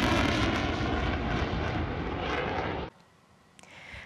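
A Rafale fighter jet roars loudly and steadily in a dense broadband rush, then drops away abruptly near the end, leaving a fainter distant rumble.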